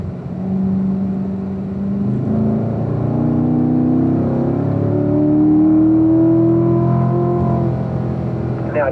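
On a race track, a car's engine rises steadily in pitch as it accelerates out of a corner. The continuous drone sounds fairly close and steady.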